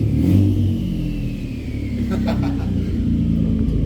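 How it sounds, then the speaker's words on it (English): Ford EcoBoost engine revving with an aftermarket exhaust, loud close throaty roar with turbo whistle rising and falling across a few seconds. "Definitely turbo noises."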